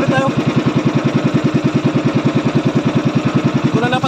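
A small fishing boat engine chugs steadily with a fast, even mechanical pulse, running continuously at a constant pace.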